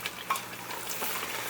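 Masala with coriander and mint sautéing in hot oil for a Chennai-style marriage biryani, a soft steady sizzle with light stirring scrapes, alone and close.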